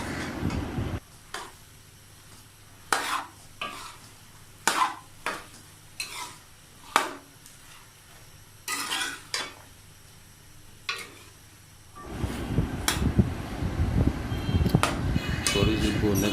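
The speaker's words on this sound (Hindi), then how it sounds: "अच्छे तरीके से गोभी को भून लेंगे।" Cauliflower fries in a pot for gobi gosht, with a spoon clattering and scraping against the metal in irregular strokes over a quiet sizzle, then a louder, fuller sizzle toward the end, with talking throughout.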